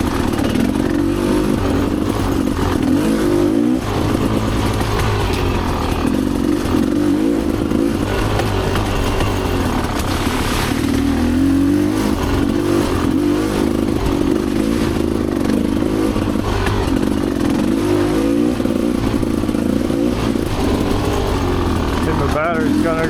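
Dirt bikes ride a single-track trail, their engines droning steadily and loud throughout with rattling clatter and small shifts in revs.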